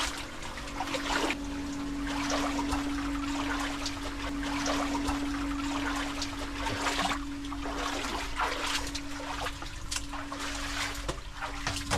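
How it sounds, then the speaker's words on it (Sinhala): Water trickles and splashes in a gem mine pit that is pumped out by a motor, under a steady low mechanical hum, with irregular drips and splatters close by and no speech. "මේ එකතු වෙන වතුර ටික මෝටරයකින් උඩට ගන්නවා."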